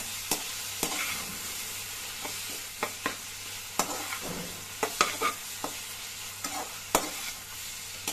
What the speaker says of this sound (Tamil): இஞ்சி பூண்டு பேஸ்ட் போட்ட உடனே விடாமல் கிண்டிகிட்டே இருங்க, இல்லைன்னா அடிச்சுக்கிறோம்